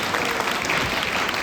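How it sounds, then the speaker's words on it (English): Steady applause from an audience at a fan convention Q&A session, a dense wash of clapping that holds evenly for the whole moment. "Let's give a round of applause for our guests."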